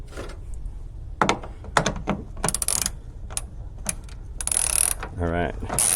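A ratchet works 10mm bolts on the rear door of a Toyota FJ Cruiser, giving rapid clicking bursts and metallic clatter, close and fairly loud, with a short buzzy whir near the end.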